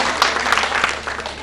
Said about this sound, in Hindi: एक जोरदार ताली आप